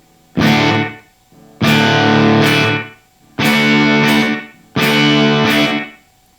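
Distorted electric guitar played through a DD500 delay pedal on its rockabilly setting, a tape-style echo at 120 milliseconds. Four chords ring out one after another, each followed by a short, quick slapback repeat, loud and close.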